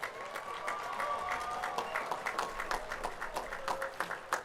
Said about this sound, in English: Please join me in giving all of this year's award recipients a round of applause.